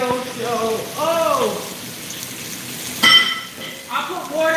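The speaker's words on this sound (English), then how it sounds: "We got our steak cooking." Steak sizzles in a frying pan while eggs are being made, a steady close frying hiss running under talk, with a brief clatter partway through.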